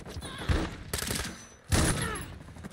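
A shotgun fires in the video game Blue Estate: several loud, punchy blasts spaced apart, each with a short rumbling tail, and no clear talk between them.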